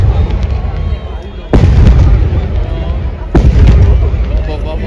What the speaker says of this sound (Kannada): ಕ್ಯಾನನ್ ಫೈರ್ ಹಾಕ್ತಾರೆ. ಟೋಟಲ್ 21 ಶಾರ್ಟ್ ಹಾಕ್ತಾರೆ. ಕ್ಯಾನನ್ ಬ್ಲಾಸ್ಟ್ ಆಗುತ್ತೆ,